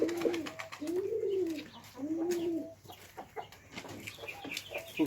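Three hens being fed clean wheat grain give a series of low, rounded clucking calls, close and fairly soft, with faint background rustle and no talking.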